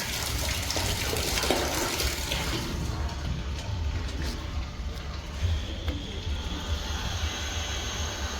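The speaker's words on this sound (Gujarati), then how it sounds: "આજે મોટર બગડી છે તો પાણી ઓછું ઓછું આવે." A thin, steady rush of tap water comes from a faulty motor pump that delivers only a weak flow, continuous and fairly close, with a faint breezy background.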